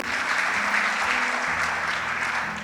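A church congregation claps loudly and steadily in praise during a sermon, a dense continuous wash of applause with a faint low tone underneath.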